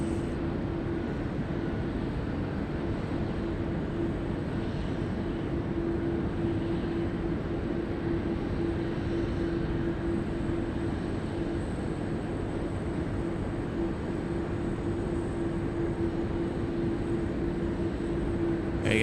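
A Singapore Airlines airliner taxis onto a taxiway at Sydney Airport, giving a steady, continuous engine hum with a sustained whine, unbroken and fairly distant throughout.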